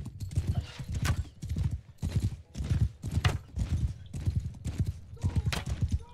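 A horse gallops in Mount and Blade 2 Bannerlord, a video game, with loud, steady, rhythmic hoofbeat clusters repeating about twice a second throughout and no pause.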